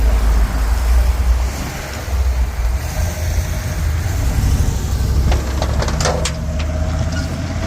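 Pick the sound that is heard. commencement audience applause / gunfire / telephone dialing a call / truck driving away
truck driving away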